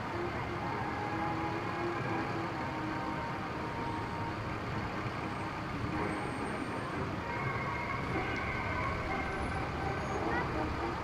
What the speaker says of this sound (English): you don't usually see a blue fire vehicle